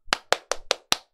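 Five crisp, separate hand claps ring out in an even rhythm, close and fairly loud against silence, like a small audience or host applauding on a Korean stock-market broadcast.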